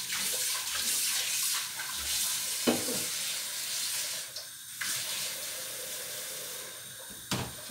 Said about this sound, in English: So I'm going to go near the sink and add a lot of cold water in there so it doesn't get sticky.